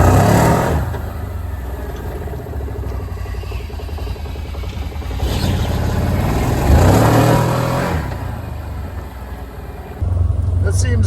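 A Can-Am Defender HD10 side-by-side with a suspected clogged fuel filter runs and accelerates, its engine droning steadily, then hesitating before slowly building revs, loud and close throughout.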